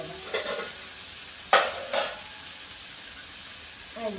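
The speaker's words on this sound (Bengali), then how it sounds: "আদা রসুন পেঁয়াজ বাটা দিয়ে দিলাম এখন আবার কষিয়ে" Ginger, garlic and onion paste being stir-fried in a pan for Bengali mutton curry gives a low, steady sizzle, broken by a few sharp scraping strokes of the spatula and a brief voice near the end.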